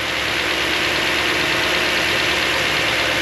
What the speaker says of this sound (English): you see how the idle dipped down a little bit now that the car is getting warmer?